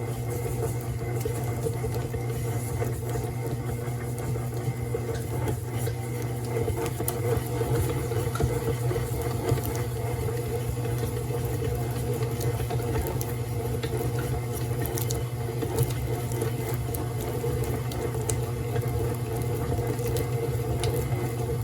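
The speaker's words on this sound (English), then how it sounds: "I'm going to start my stand mixture." Stand mixer beating butter with sugar and stevia into a creamy mix, a steady motor hum with a churning, patter-like whir that runs evenly and moderately loud throughout, with no talk.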